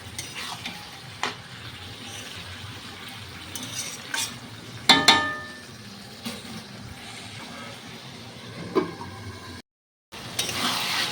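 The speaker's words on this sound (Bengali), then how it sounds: "এখন গ্যাসের পাওয়ারটা একটু কমিয়ে দিয়েছি তো ঢেকে ঢেকে বাঁধাকপিটা রান্না করবো" Cabbage with salt and turmeric cooking slowly in a pan on low gas, a soft continuous sizzle with occasional spoon stirs and a few sharper metallic knocks, close by.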